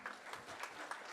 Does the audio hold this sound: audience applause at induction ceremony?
yes